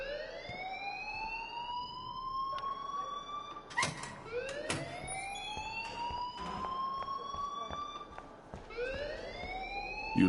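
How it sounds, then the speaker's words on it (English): An alarm wails continuously in the Life is Strange video game, a rising and falling siren-like tone that sweeps upward again and again at steady volume, with occasional clatter behind it. "please turn off that alarm since that's your job"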